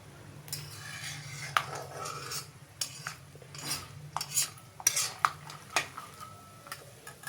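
Peanuts, curry leaves and green chillies fry in a pan of oil while a metal spoon scrapes and clinks against it, irregular close stirring taps over a low steady sizzle.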